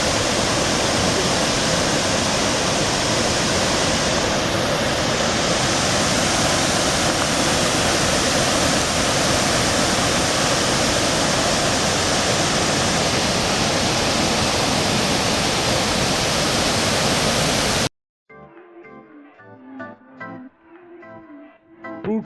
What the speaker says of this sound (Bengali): এই যে এইটা ফ্রুট ওয়াটারফল।